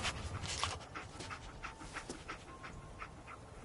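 Dogmeat the dog in Fallout 4 pants steadily, a rapid breathy rhythm of short huffs heard close up and alone over a soft game background.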